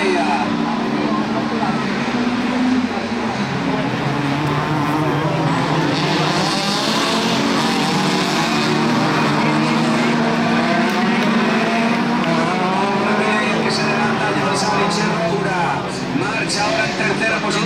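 Opel Kadett race car engines roar continuously during a division 2 rally race final at Arteixo, a steady loud motor drone with passing cars, under a commentator talking throughout.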